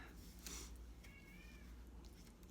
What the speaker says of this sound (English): there's the cat yelling